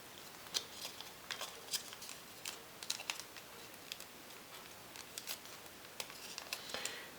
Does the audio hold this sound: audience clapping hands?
no